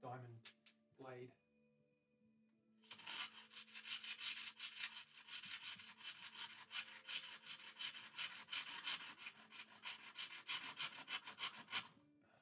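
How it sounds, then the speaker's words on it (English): A fine diamond blade saws a guitar part by hand, a steady rhythmic rasping back-and-forth stroke running continuously for many seconds after a short musical intro. "So I'm going to do it by hand with a finer diamond blade."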